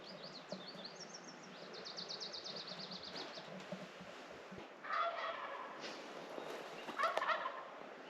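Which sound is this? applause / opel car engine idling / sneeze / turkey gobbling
turkey gobbling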